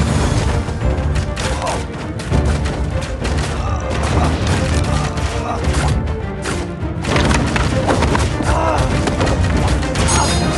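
A dense, continuous volley of gunfire and booming blasts in a battle video game, loud and unbroken throughout, with shouted commands mixed into the din.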